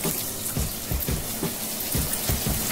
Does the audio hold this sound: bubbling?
yes